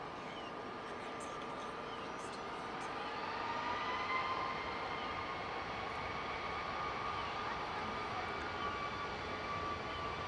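A Ryanair jet takes off at Dublin Airport with a steady, broad engine roar that holds for the whole stretch at moderate distance, swelling slightly midway.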